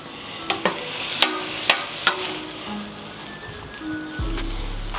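Food sizzling and frying on a hot skillet while bread toasts for a chopped cheese sandwich, with a steady crackle, several sharp clinks of a utensil stirring against the pan, and a low hum starting near the end.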